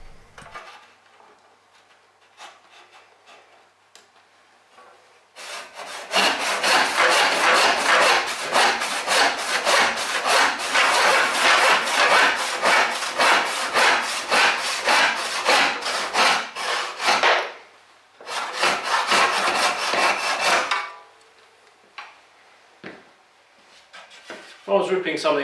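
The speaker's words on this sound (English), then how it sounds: "Move either the work or yourself as you progress to keep the cutting position optimal." A Western backless handsaw rips through a narrow piece of wood at a workbench: a long run of loud, rapid back-and-forth strokes, a short pause, then a second burst, with quieter handling before and after.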